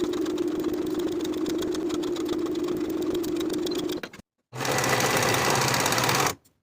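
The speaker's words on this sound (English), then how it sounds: "Sew the band to the sleeve with a 1/2 inch seam allowance" A sewing machine stitches a band to a sleeve in a steady, close mechanical whir. It stops briefly, then runs again for a couple of seconds before halting.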